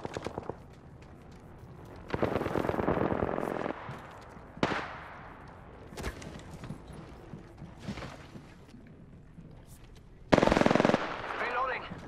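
Automatic gunfire from the Apex Legends video game comes in several sharp bursts of rapid shots separated by pauses, loud and close, with a final heavy burst near the end.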